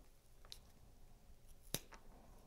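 Scissors snip through paper while trimming a cut-out flower piece, one quick faint snip followed by a sharper, louder cut a moment later over quiet room background.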